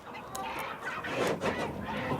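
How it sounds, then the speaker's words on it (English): Chickens clucking on an island, a steady mix of close clucks and murmuring fowl calls with a couple of brighter squawks, filling the short stretch with no talk. "the islanders are determined that their chickens won't escape"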